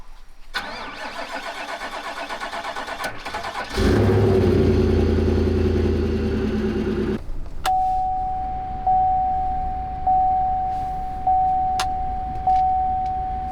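A GMC Sierra AT4 pickup with a misfire issue cold-starts at minus 28 Celsius: a few seconds of quiet cranking, then the engine catches loudly and settles into a steady idle, with a recurring high chime sounding over it.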